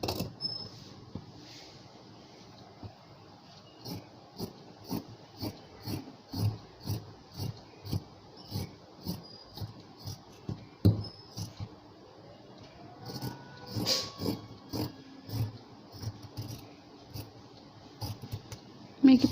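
Scissors cut steadily around the front piece of blouse fabric, a long run of crisp, evenly spaced snips close up. A few softer rustles and handling noises come near the end.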